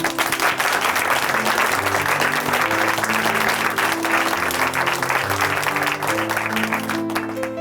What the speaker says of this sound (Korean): 우리 박수로 함께 응원해 보도록 하겠습니다